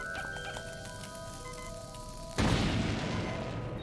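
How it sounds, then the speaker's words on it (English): A bomb in The Legend of Zelda: Link's Awakening goes off with a sudden loud boom partway through, trailing into a rumbling wash after a stretch of tonal game music. "Can I use a bomb to break the ground?"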